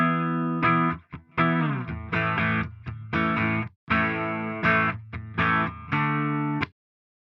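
Clean electric guitar played through a Reason rack amp on its 800 super-clean setting, a run of distinct strummed chords and picked notes with short gaps, close and steady, no voices.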